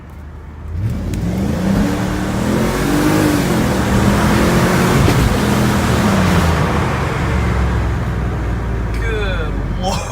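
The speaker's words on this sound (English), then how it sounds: "Very, very fast car." Engine-swapped Mercedes C43 AMG accelerating hard, its engine note rising through the gears in a loud, steady roar heard from inside the car, with talk over it.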